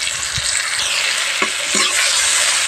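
Cumin paste goes into a frying pan for a cauliflower roast. A loud, continuous close sizzle fills the whole moment, with a few light stirring knocks underneath.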